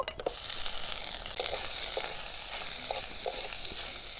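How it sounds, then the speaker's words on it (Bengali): Cauliflower florets fry with turmeric, chili powder and salt in a pan, a steady close sizzle punctuated by several light taps and scrapes of a stirring spatula. "মশলার সঙ্গে ফুলগুলো ভালো করে কষিয়ে নেব"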